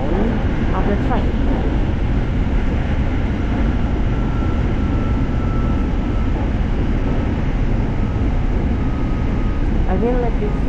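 A Bangkok SRT Red Line train rumbles steadily nearby with a continuous loud roar and clatter, a faint squeal rising briefly near the end.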